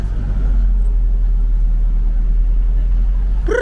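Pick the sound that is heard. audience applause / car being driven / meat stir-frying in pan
car being driven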